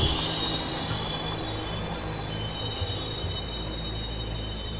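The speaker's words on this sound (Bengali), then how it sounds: "কিছুক্ষণ পরেই ট্রেনটি মিরপুর স্টেশনে প্রবেশ করল।" A train pulling into Mirpur station: loud, continuous metallic wheel squeal rides over a heavy, steady rumble throughout, with no voices.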